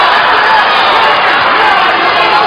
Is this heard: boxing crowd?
yes